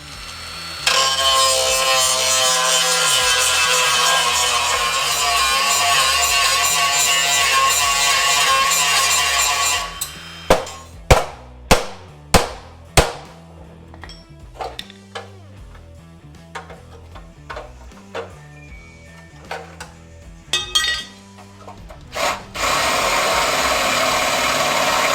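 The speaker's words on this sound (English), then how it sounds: "We're going to do the usual grinding work and spot weld removal." On a donor car panel from a Ford Landau, a power grinder whines steadily for about ten seconds, then a series of sharp metallic knocks and scrapes follow as spot welds are removed before the grinder starts up again.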